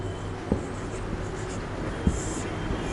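Writing on a board or paper during a French lesson, faint scratchy strokes with a couple of soft taps, quiet and close against a low background hiss.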